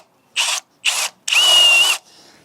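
A power drill bores into a solid-core wooden door. It comes in two short close bursts, then one longer run with a steady high whine as the bit bites into the wood, and stops abruptly.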